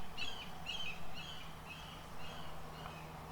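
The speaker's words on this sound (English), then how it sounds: "Shut up, bird!" A pet bird indoors squawks repeatedly in a steady series of sharp, fairly close calls over a low room hum.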